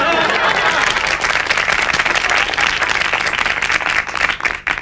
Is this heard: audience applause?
yes